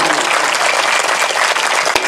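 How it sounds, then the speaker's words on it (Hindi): A crowd claps steadily and loudly at a Shrimad Devi Bhagwat Katha religious discourse, dense continuous applause filling the whole stretch with no pause. "तालियों से अपने सौभाग्य के लिए।"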